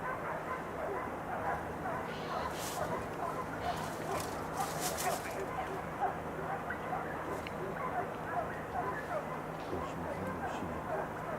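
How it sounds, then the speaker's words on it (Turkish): Hunting dogs on a wild boar hunt bark, yip and whimper continuously on a mountain slope, moderately distant, with people talking over the noise. "Şimdi köpekleri oraya salacağız tekrar."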